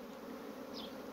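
Honeybees forage on flowering willow, gathering pollen in warm early-spring weather during the year's first nectar flow. A steady, close, continuous hum of many bees runs throughout with no voices.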